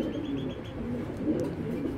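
A male white racer pigeon coos softly and close by, a low, steady murmur running continuously with slight swells, with no other sounds.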